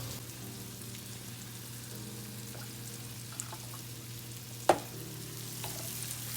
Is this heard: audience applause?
no